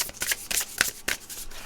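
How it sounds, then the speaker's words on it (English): Tarot cards being shuffled by hand, a quick series of crisp riffling bursts and soft slaps, close and fairly loud, with no voices over it. "I love when people shuffle theirs and they're just like flipping all over the place"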